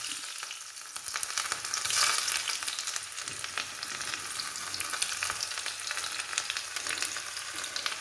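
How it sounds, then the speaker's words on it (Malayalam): Onions fry loudly in hot oil after mustard seeds have popped, a dense continuous sizzle and crackle with no voices. "കടുക് പൊട്ടി നമുക്കിനി ഉള്ളി ഇട്ട് കൊടുക്കാം."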